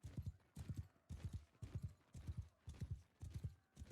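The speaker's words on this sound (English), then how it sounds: "This horse is slow." Horse hooves in Bannerlord clip-clop in a steady, even trot, about two paired strikes per half second, close and clear with no speech.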